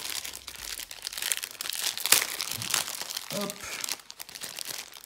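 A Pokemon booster pack wrapper from an XY tripack gets torn and crinkled open in close, loud bursts of crackling foil, with a brief spoken exclamation in the middle.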